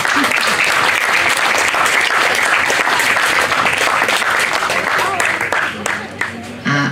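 Big applause from the audience at the 9th folklore festival of the Rajec Valley in Turie, Slovakia: loud, dense clapping that holds steady, then thins toward the end as a voice comes in.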